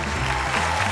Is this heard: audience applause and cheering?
yes